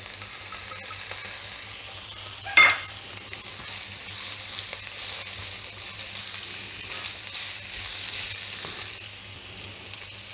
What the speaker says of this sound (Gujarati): ડુંગળીને વાર ફેરવી ને આપણે આ ફણસી એડ કરશું